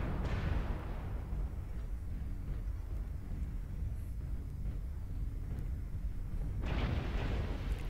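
A spider bomb explodes in Killzone 2 as a deep rumbling blast against constant heavy battle noise, with a second sharp burst near the end, no speech.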